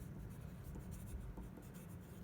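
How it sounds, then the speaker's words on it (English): Pencil scratching across paper while a name is written, a faint continuous scratchy rasp with no talking. "take your paper, write your name on it"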